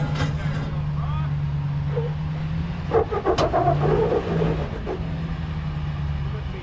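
Ram 1500 pickup engine running steadily as its tires climb over rock on Moab Rim, a continuous low drone with a brief rise midway and people talking over it.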